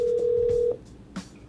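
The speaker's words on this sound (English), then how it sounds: "let's make a phone call." Phone call being placed, one long steady ringback tone that stops abruptly, followed by a faint click and a quiet pause.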